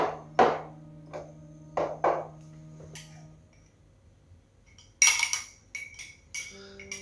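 A spoon stirring a mix of honey and egg yolk in a small dish, with several sharp clinks against the bowl, a scraping pause, then a quicker run of taps and knocks, no talking.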